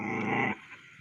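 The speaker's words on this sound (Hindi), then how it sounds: "बहुत ही बहादुर कुत्ता है।" A dog gives one low, rough growl lasting about half a second and then breaks off sharply, leaving only quiet background with a faint stir after it.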